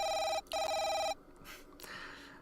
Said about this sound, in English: Let's just answer the phone.